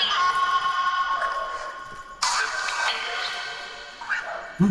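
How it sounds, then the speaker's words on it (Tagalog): Several dogs bark and yip at a distance in a busy outdoor scene at a cemetery at night, with a sharper burst partway through and faint voices in the background. "mga dami nagkakahula na aso"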